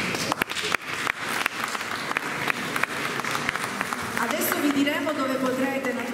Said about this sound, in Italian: perfetto, lo facciamo un applauso.